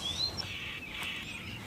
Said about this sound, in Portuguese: Está ouvindo os passarinhos cantar?